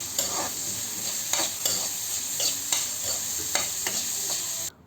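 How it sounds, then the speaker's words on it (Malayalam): Small onions with salt sautéing in a pan for a mutton liver pepper fry: a loud, steady sizzle broken by repeated scraping stirs, cutting off abruptly at the end. "കുറച്ച് ഉപ്പും കൂടി ചേർത്ത് നമുക്ക് നല്ലവണ്ണം ഒന്ന് വഴറ്റിയെടുക്കാം."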